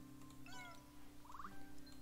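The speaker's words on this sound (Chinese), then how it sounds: "里面有一只被关住的猫咪" A trapped cat meows in the video game Cats in Time, giving two short, close mewing calls, each over a steady low background hum of game music.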